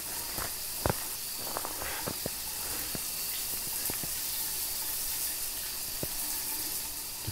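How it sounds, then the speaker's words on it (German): Water runs steadily in the showers of a campground building in the video game Phasmophobia, a faint continuous hiss with scattered footsteps and clicks over it. "Ah, hier läuft Wasser."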